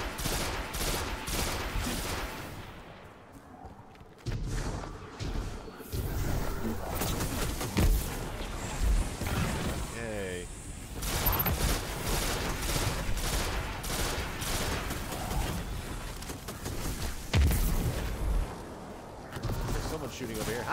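Gunfire in a Destiny 2 battle rattles in repeated bursts and volleys over game ambience, with a person talking over parts of the action.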